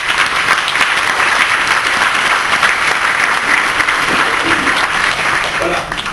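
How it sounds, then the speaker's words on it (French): Dense, sustained applause from a large audience at a Senate reception, steady and loud for the whole stretch with a faint murmur of voices mixed in. "je voudrais, s'il vous plaît, qu'on les applaudisse"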